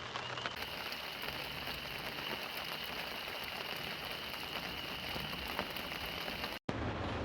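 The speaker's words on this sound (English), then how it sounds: "I saw the rain coming in" Steady rain patters on a surface in a constant hiss, briefly cutting out near the end.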